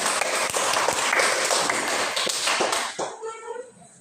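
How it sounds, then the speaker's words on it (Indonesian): A small group claps quickly and unevenly for several seconds, then trails off as a voice speaks over the last moments. "hore tepuk tangan"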